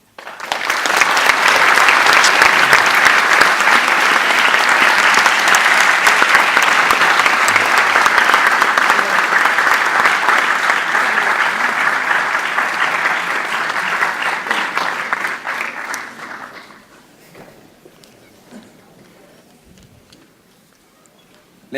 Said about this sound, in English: give another round of applause for Mr. Norman Finkelstein